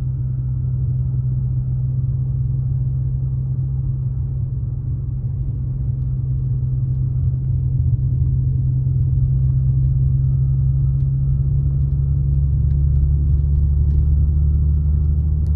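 An Audi S5 drives on snow with a steady, loud engine rumble throughout, a constant low drone carrying on without pauses and rising slightly toward the end.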